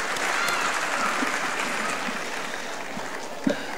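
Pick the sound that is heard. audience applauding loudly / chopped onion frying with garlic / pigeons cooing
audience applauding loudly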